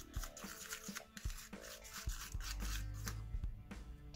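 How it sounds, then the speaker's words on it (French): Two glue-free slime ingredients being stirred into a thick paste, giving a steady wet rubbing and scraping with repeated soft knocks against the container, close and fairly quiet, with no talking. "Donc là je dois venir mélanger ces deux ingrédients jusqu'à l'obtention d'une pâte lisse."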